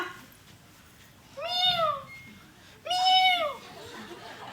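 A cat meows twice, about a second apart: two clear, fairly close calls, each a rising then falling wail, over a quiet indoor background.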